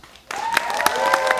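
Sudden burst of stand-up comedy audience applause and clapping, loud and sustained after a brief quiet start.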